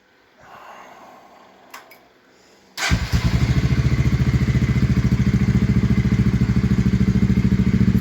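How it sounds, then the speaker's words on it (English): A Honda CBR125R, freshly repaired after a blown gearbox, starts after some faint handling noises and settles into a loud, steady single-cylinder idle with an even rapid thump that holds for the rest of the clip. "to a crisp sounding nice cbr125r"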